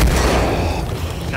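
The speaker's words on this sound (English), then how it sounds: "I'm just gonna empty this MK14 out into these guys." MK14 rifle fire in Call of Duty Advanced Warfare zombies mode, a loud dense burst of booming shots blurring into one sustained roar, close and heavy.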